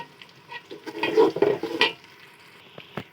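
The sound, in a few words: onions frying and being stirred in a pot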